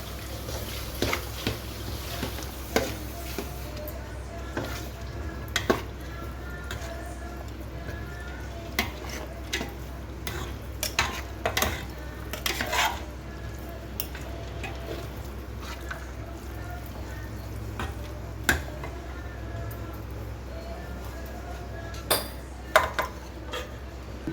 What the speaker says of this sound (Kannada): ಸ್ವಲ್ಪ ಅವಲಕ್ಕಿ ಹಾಕಿ ಮಿಕ್ಸ್ ಮಾಡ್ಕೋಬೇಕು